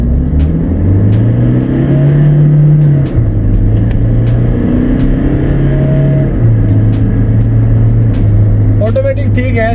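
Toyota Innova Touring Sport 2.8L diesel automatic shifted into manual mode, its engine droning loudly and steadily as it accelerates, pitch rising and dropping with gear changes, under someone talking throughout.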